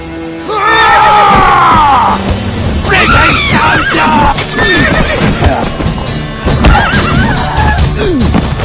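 Horses in The Witcher 3 video game give loud, close neighs and whinnies over clip-clopping hooves, mixed with shouting and yelling voices.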